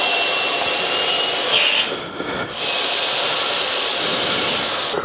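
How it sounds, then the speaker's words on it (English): An air compressor blasts a loud, steady hiss of air into a tubeless mountain bike tyre as it tries to seat the bead, with a brief drop partway through before the rush resumes. "I'll just use a compressor on this"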